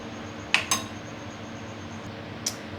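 A spoon stirs Dalda into pancake batter in a bowl, giving a couple of quick metallic clinks followed later by a single light tap over quiet room tone.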